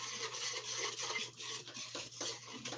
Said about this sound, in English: So I'm going to go ahead and start whisking this